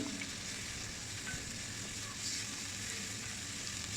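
Prawns still in their shells fry with softened onion in a pan, giving a continuous, even sizzle at moderate volume with no voices.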